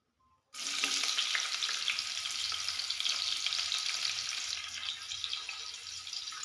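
Chopped onions frying in hot oil in a pan, starting with a sudden loud sizzle that settles into a steady, close crackling hiss for several seconds, alone with no voices.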